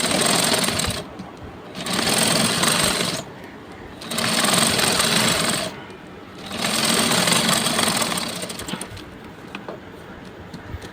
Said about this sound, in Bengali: দেখুন আমার সেলাই করা শেষ